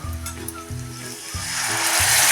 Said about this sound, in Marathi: त्यात आता टाकूया हा चिंचेचा कोळ